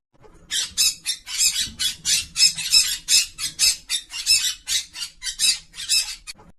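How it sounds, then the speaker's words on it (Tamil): Parrot giving a loud danger call, a rapid series of about fifteen harsh, shrill squawks in quick succession, close and alone with no talk. "டிங்கு வானத்துல கொஞ்சம் உயரமா பறந்து பிறகு தன்னோட குரல்ல ஆபத்து ஆபத்துன்னு கத்துச்சு."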